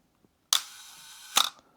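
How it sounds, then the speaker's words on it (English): A camera shutter set to a one-second exposure: a sharp mechanical click opens it, a faint steady whir holds for nearly a second, then a second crisp click closes it, close and isolated in silence. "The shutter stayed open for 1 second, a long time."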